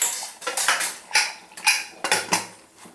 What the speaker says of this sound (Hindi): इसको एक बार हम मिक्स करेंगे और 2 या 3 विसल निकाल देंगे इसका।